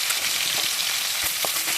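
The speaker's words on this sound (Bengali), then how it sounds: "খুব সুন্দর করে মাছগুলো ভেজে নিয়েছি।" Pieces of snakehead fish frying in oil in a pan: a continuous close, loud sizzle with small crackles and stirring knocks, and no talking.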